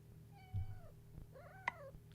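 A domestic cat meows twice nearby, a drawn-out cry followed by a second wavering meow, over a faint low background hum.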